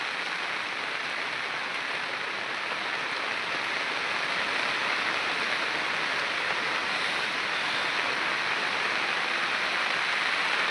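Heavy rain pouring outdoors beside a road, a thick, continuous hiss of falling water, loud and unbroken for the whole stretch with no voices.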